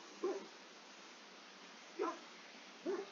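Dog in the fantasy role-playing game Dragon Age Origins giving three short, soft barks or whimpers spaced apart over a quiet background hum.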